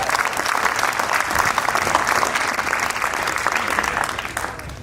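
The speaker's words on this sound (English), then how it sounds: "A big round of applause," Dense audience applause for candidates at a Republican congressional debate, a sustained close roar of many hands clapping that eases slightly toward the end, with no voices over it.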